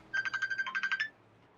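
A phone ringtone plays near a NASCAR Xfinity Series race broadcast, a quick warbling electronic trill of about ten rapid pulses lasting around a second, fairly faint over a low background hum.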